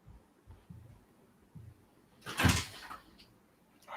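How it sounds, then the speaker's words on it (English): Faint soft thuds like footsteps come closer through a quiet room, then a door opens or shuts with a sharp, loud knock. A few quieter clicks follow. "I hear doors and steps coming."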